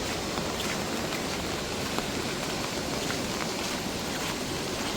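Constant broadband hiss of monsoon rainfall in Furus village near Dapoli–Khed, fairly faint and steady throughout, with no distinct voices or other events standing out.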